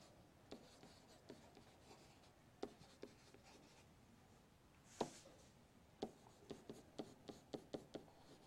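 Pen or marker writing out math on a surface, soft scratchy strokes with scattered taps and a quicker run of short strokes near the end, faint and without talk.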